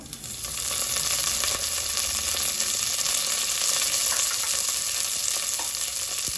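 A tempering of chana dal, urad dal, cumin, mustard seeds and curry leaves sizzles in hot oil for Karnataka-style vangibath, with a steady, loud, close crackle and frying hiss throughout and no talking.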